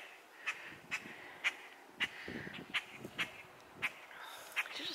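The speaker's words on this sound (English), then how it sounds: "There's noisy birds up here." Birds give sharp, repeated calls about every half second, around ten in a row, moderately distant over faint rustling.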